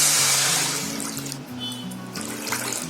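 About one and a half cups of water pour into a pan, a bright gushing splash at first that settles into a steady trickle, with background music playing.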